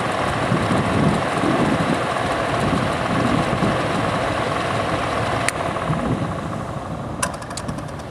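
A replacement quarter-horsepower electric motor on an exhaust fan runs steadily and loudly, a dense continuous hum and whir with a few brief metallic clicks near the end and no talking.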